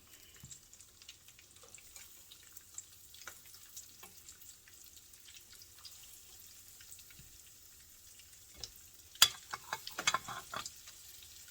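Cornmeal-breaded pork chops fry in a pan with a soft, continuous sizzle, then a louder burst of clatter and spitting near the end; no voices.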